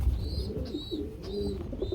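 A male domestic pigeon coos close by, giving several soft, throaty rolling coos in quick succession over a low background rumble.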